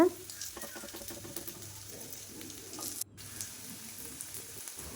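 Rice and jaggery paniyaram dumplings fry in a pan with a faint, close sizzle, broken by a few light clicks and a brief clatter near the end.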